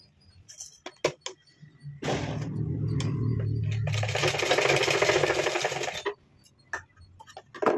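Electric sewing machine stitching blouse pieces, running in a steady whirring burst of about four seconds with short taps and clicks before and after; no talking.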